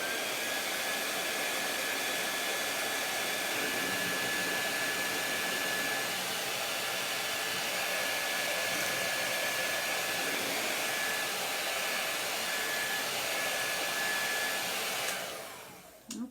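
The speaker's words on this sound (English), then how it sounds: "I'm going to give this a quick dry with my dryer" A hair dryer blows steadily at close range for a long stretch, a constant whirring roar that cuts off abruptly near the end.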